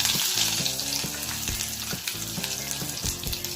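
Cumin seeds and chopped curry leaves fry in hot oil in a pan while making rava kozhukattai. A steady, close sizzle runs throughout, with a soft rhythmic pulsing like stirring.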